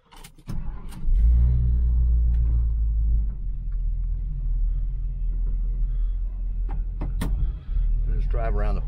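A 1969 Chevelle Malibu engine rumbles up close as the car pulls off and drives around a property, a deep steady low drone with a few clicks and a voice briefly heard near the end.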